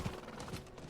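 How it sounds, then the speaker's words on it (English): Hooves of a horse ridden in Diablo IV clip-clop in a quick rhythm, faint and low in the game mix with no talking. "I should probably just use the horse, it's faster."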